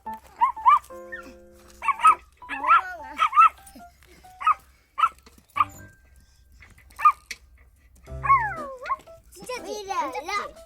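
A voice imitates a dog with a series of short, high yips and barks, spaced irregularly, with some playful chatter near the end.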